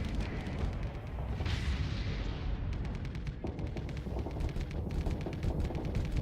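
Ship cannons firing in a space battle in the game Starsector, a rapid series of booming shots with sharp repeated bursts and steady rumbling beneath.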